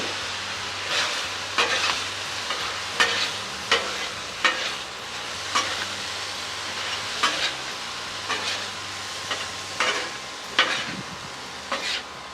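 Chicken in a cornstarch sauce sizzling in a pan, a steady crackling fry broken by regular stirring scrapes, close and moderately loud with no talk.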